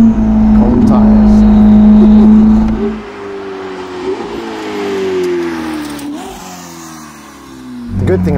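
A Ferrari SF90 Spider fitted with a Novitec exhaust revs loud and close, holding a steady high drone before shifting through rising gear pulls as it drives, with no talking over it.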